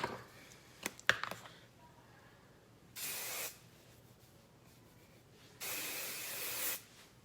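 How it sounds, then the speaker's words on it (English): Two bursts of Hot to Trot max hold hairspray, each a steady aerosol hiss lasting about a second, close by, with a few soft clicks and handling taps before them and quiet in between. "And this is the Hot to Trot hairspray. Max hold."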